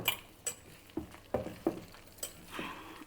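Chopped onions being mixed by hand into a soya chunk vada batter in a bowl: a series of close, wet squelching and slapping strokes in an uneven rhythm, about eight distinct pushes, with no talk.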